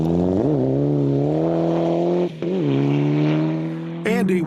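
Rally car engine revving hard and dropping as it spins on a gravel stage at the South Canterbury Rally, a loud close drone with rising and falling pitch and a brief sharp burst at the end, under no speech.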